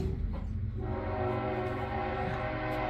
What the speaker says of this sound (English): Also, sorry about the train.